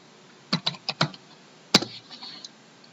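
A computer keyboard typed on while working in an Excel spreadsheet gives a few quick clicking keystrokes, a short burst and then one sharp tap followed by lighter scattered clicks, close and alone.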